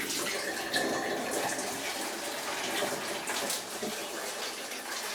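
Steady running tap water splashes into a used mince container being rinsed out in a kitchen sink. A continuous close hiss and gush lasts the whole stretch, with no talk.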